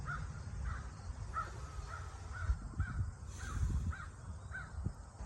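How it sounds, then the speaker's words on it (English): Crows caw repeatedly in a steady series of harsh calls, moderately distant, over a low rumbling background. "You hear the crows?"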